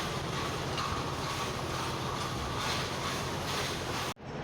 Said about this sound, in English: They've delayed the northern service to let that depart.